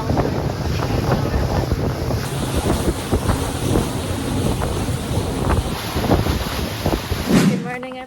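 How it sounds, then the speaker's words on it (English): A fast boat speeds over open water off Ilha Grande, Brazil, with a steady engine and hull rumble, heavy wind buffeting and splashing spray that run throughout. "Fast boat, here we go."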